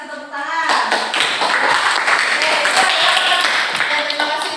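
A classroom of ninth-grade students clapping together, a dense, steady patter of many hands that starts abruptly and stays fairly loud throughout, with a voice heard briefly at the start.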